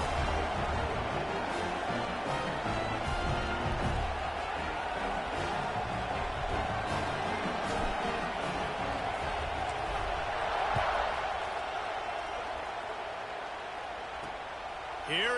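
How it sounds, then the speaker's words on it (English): Stadium crowd in an NCAA College Football 26 video game, heard as a steady, dense crowd buzz that holds at an even level for the full fifteen seconds, likely with commentary over it. "this crowd is buzzing after that last score"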